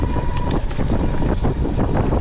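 Loud, continuous wind buffets the microphone while someone rides an 88-pound Aventon Abound LR e-bike into a headwind, a heavy roaring rumble with uneven gusts throughout.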